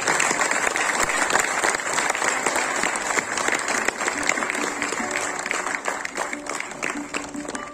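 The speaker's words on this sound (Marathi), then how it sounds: "याहीपेक्षा जोरदार टाळ्या झाल्या पाहिजे." An audience at an award ceremony for a lifetime achievement honour applauds loudly and continuously, a dense wash of many hands clapping at close range with no break.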